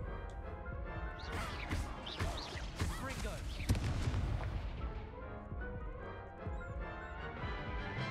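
Incendio fire spell cast in Hogwarts Legacy, a burst of whooshing, crackling impacts and booms layered with game effects, loud and dense early then fading into a quieter tail.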